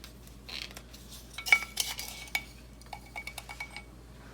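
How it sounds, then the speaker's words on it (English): A utensil stirs sourdough pita dough in a bowl, giving scattered clinks and scrapes against the bowl, some sharper taps, and quieter soft stirring in between, close and alone with no voices. "you're just going to stir that together"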